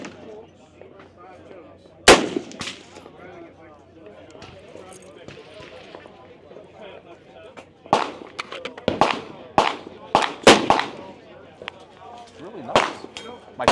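Gunshots from a pump-action AR rifle fired outdoors, a single sharp report followed later by a cluster of irregularly spaced loud cracks with mechanical clanks between them; people talk quietly in the background.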